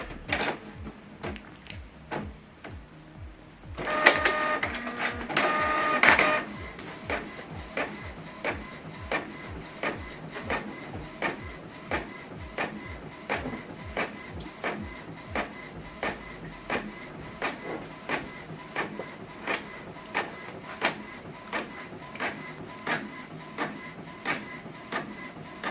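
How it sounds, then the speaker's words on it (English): A Canon or HP printer running a double-sided print job, with a steady rhythmic clatter of paper feeding and rollers ticking evenly throughout and a louder mechanical burst near the start as the sheet is drawn back in. "So it's going back in because we selected to print it double-sided."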